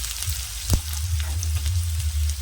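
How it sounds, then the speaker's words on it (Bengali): Ground onion paste frying in hot oil for a fish curry, a dense continuous close sizzle with a brief stir or spoon tap near the start, loud and steady throughout. "বেটে রাখা পেঁয়াজটা দিয়ে একটু ভালো করে ভেজে নেব পেঁয়াজটা"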